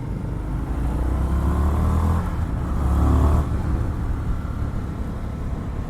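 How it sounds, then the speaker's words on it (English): An Indian FTR 1200 S motorcycle engine idles and revs gently in a low, steady drone, rising briefly in pitch before settling back to a rumble, with no one speaking. "the engine kind of revs a little slow"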